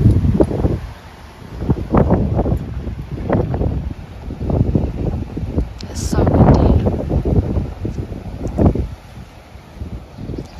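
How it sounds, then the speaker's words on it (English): Strong wind at an allotment plot, roaring in uneven gusts and buffeting the microphone close up, with rustling mixed in and no speech over it. "So windy."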